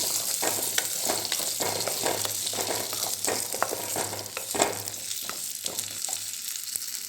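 Chopped dates roasting lightly in ghee for a sugar-free nut laddu, with a steady close sizzle broken by frequent stirring scrapes throughout; no talking.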